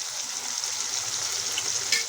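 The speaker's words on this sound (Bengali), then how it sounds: "এবার এগুলোকে ভালোভাবে ভেজে নেব।" Pieces of taro sprinkled with salt and turmeric fry in oil in a wok, giving a soft, steady sizzle for a couple of seconds. No one speaks.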